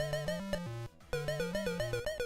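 ColecoVision home console video game music: a bright, buzzy electronic melody of short stepped notes over a bass line, broken by a brief silent gap before the tune restarts.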